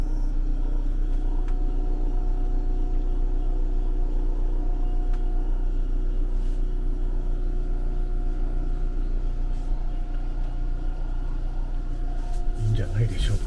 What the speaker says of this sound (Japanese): エアコンのモーターも動き出しました。